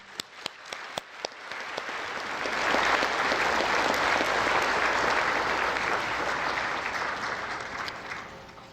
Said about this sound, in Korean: 우리 고명진 목사님께 뜨거운 박수 한번 부탁드리겠습니다